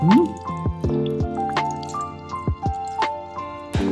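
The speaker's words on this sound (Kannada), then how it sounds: "ಸೊ ಈ ನೀರು ಡೈರೆಕ್ಟ್ ಆಗಿ ಇದ್ರೊಳಗೆ ಬೀಳ್ತಾ ಇದೆ" Whey drips steadily from curd hung in a cloth into a container below, for shrikhand, giving a series of close, distinct plinking drops at an irregular rhythm in a quiet kitchen.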